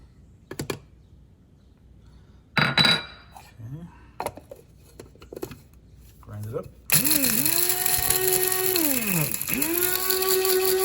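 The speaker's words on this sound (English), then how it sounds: "let's put everything in a coffee grinder" After some clicks and handling noises, a small electric coffee grinder whirs loudly and continuously grinding herbs, its pitch dipping and recovering as it chops.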